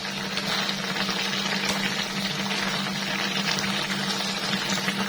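Tofu simmers in seasoned water as it is stirred, a steady close bubbling and sizzling hiss that continues evenly throughout with soft scraping movements.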